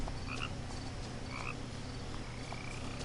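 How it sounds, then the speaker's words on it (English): Frog croaks in the video game What Remains of Edith Finch, a few short throaty calls over a steady bed of game ambience and low background music, with no talking. "Where are you, frog?"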